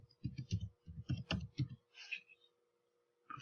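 Several sharp computer mouse clicks in quick bursts while working in SCAL4 cutting software for a ScanNCut machine, each click carrying a low thump, close and fairly quiet, followed by a brief pause.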